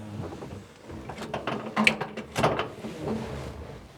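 Truck shoulder harness seat belt being handled, with soft mechanical clicks, latch snaps and ratcheting retractor sounds, fairly quiet and close, with a couple of sharper clicks near the middle.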